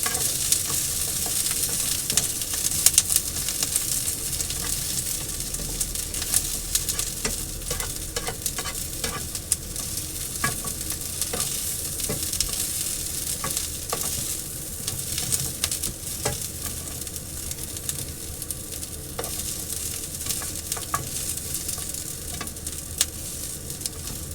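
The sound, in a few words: garlic sizzling and being stirred in a frying pan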